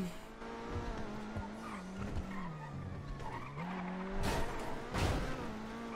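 A car in GTA V brakes hard, its tires squealing in a long, wavering skid with engine noise beneath, building louder toward the end.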